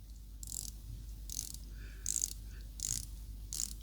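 Quiet ratcheting clicks from a 120-click rotating dive-watch bezel on a Steeldive 1971 Sumo homage, coming in short clustered bursts about once a second, close but soft against a hushed background.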